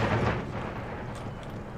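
Artillery opening fire on an enemy quicklime-launching mortar in the video game Empire: Total War, a dense, rumbling wash of booming blasts that blur into one sustained roar with no talk.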